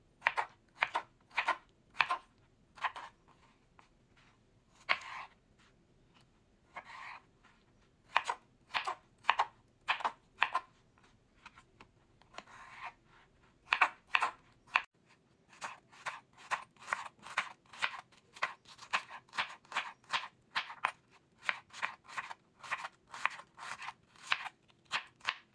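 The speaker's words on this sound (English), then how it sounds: "Definitely chopping this into cubes, like a bite size." Rapid knife chops cutting potatoes and onions into cubes on a cutting board, bursts of quick dry strikes with brief pauses, close by and with no talking.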